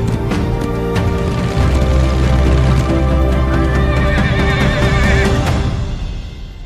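A horse in the Windstorm: Start of a Great Friendship Remastered game whinnies loudly while galloping hooves pound in a steady rhythm over a musical backdrop, fading out at the end.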